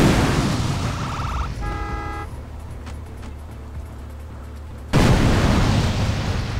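A grenade going off in the video game GTA San Andreas: a loud, broad roaring blast fades out, a stretch of quieter tonal beeping follows, then a second booming blast hits hard near the end.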